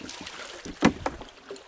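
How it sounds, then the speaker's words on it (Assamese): A wooden boat moves along a river with soft, irregular splashes and knocks, one sharper stroke standing out near the middle, over faint wind and water. "এয়া আমাৰ নাও আগবাঢ়িছে, তেওঁলোকৰ নাও পিছ পৰিছে।"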